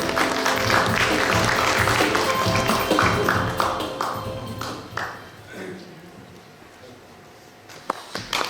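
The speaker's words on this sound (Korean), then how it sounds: "여러분 우리 조준국 전 회장님 큰 박수로 맞이시기 바랍니다" An audience at a Korean traditional music association inauguration ceremony in Daejeon claps to welcome a former president to the stage, a sustained round of applause that thins out after about four seconds into scattered claps and room noise.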